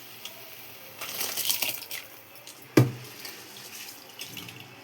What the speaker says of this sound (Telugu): ఇంకా బియ్యం అయితే వేసుకుందాం.